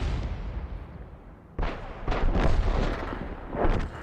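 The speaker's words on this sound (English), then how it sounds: "We fired a round in. Looks like we got a direct hit." Tank cannon fire in a tank video game, a heavy booming blast that cuts in abruptly and rolls on with a rumbling echo and further dull thuds, loud and full.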